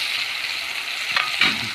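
Onions sizzle steadily in a hot frying pan where fish has already been fried, a constant close frying hiss with a couple of brief stirring clatters near the end.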